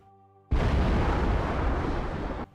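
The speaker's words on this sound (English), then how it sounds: "So there's a bunch of flashing and explosions and bing, bang, boom." A modded snow camo Pelican in Halo 3 triggers a loud, sustained explosive roar that starts abruptly, holds for about two seconds, then cuts off sharply after a faint tonal hum.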